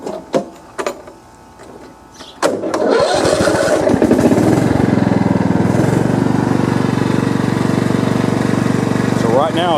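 A Craftsman LT4000 riding mower engine cranks with a few loud starter bursts, then catches and settles into a steady, close, loud running drone.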